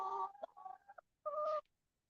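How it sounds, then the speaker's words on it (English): Chickens cluck and squawk in short bursts close by, a few overlapping calls followed by a brief pause and another louder run. "I hear you, chickens."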